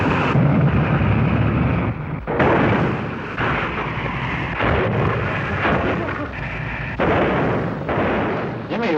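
Hobbyist model rockets launch in a series of loud, booming whooshes, several bursts following one another with short gaps between them across the stretch.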